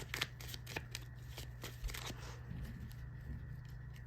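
Tarot cards shuffled and drawn by hand, close and quiet, with repeated soft papery riffles and taps and no talking.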